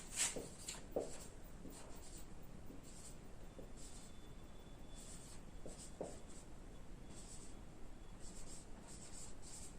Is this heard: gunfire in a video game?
no